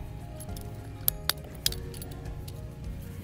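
Sprinkler tubing being cut during a sprinkler valve install, a few sharp snipping clicks close by over a low steady background hum.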